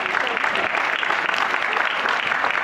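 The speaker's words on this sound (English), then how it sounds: "Please, a round of applause for the government." A crowd of students at a Bank of Ghana currency education event applauds steadily and fairly loudly, a dense wash of clapping that continues without a break.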